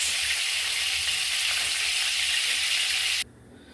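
Hot oil sizzles steadily in a pan as it heats for frying porgy fish, a loud, even hiss that cuts off abruptly near the end.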